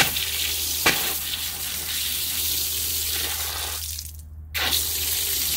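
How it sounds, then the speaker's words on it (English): Water rushes from a newly installed outdoor hose bib in a loud, steady hiss with a small click early on. The flow cuts out briefly near the end, then resumes. "All right, let's turn the water on."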